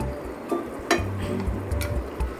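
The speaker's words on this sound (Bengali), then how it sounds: "আলুটাকে ভালো করে নেড়ে চেড়ে দিব" Potatoes frying in a pan are stirred, giving a steady low sizzle with a few scraping clinks of the spoon against the pan, close and on its own.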